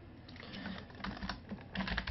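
Quiet keystrokes tapping on a computer keyboard in an uneven, continuous run, slightly busier toward the end, with no voice present.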